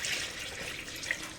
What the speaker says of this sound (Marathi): तर मी या पिठामध्ये पाणी घालून घेत आहे